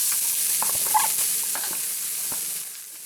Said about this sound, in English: We start by frying the onions and garlic until the onions are tender.